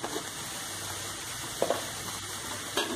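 Spices and red chilli powder fry in a pan for stuffed capsicum, giving a soft, steady sizzle with a few brief scraping stirs, close and fairly quiet.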